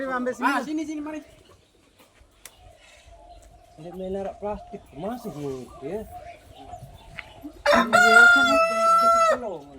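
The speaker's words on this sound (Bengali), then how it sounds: "কত বড় বড় মুরগি।" Large chickens cluck and a rooster lets out a loud, drawn-out crow near the end, heard at a farm where deer are being caught, with people talking in between.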